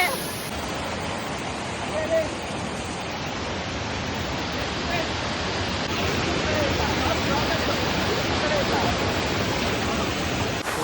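Jari Falls waterfall in a cold forest, a steady, loud, unbroken roar of rushing water filling the whole stretch without pause.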